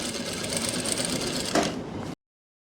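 A sewing machine stitches a strip onto a kurti, a close, steady mechanical whirr that runs continuously for about two seconds before stopping abruptly.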